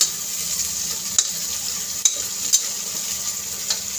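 Finely chopped capsicum fries and sizzles in a pan with onion, cumin, oil and curry leaves, a steady bright hiss broken by a few sharp clinks of stirring against the metal.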